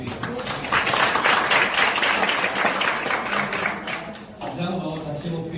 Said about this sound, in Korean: 오늘 좋은 강의를 해주신 최인혜 소장님께 다시 한번 감사의 박수 부탁드리겠습니다.